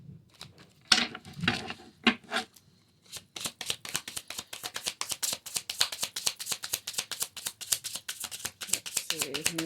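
A tarot card deck is handled, then shuffled in a fast, even run of crisp riffling patters that builds to a steady rhythm close by, with no one talking.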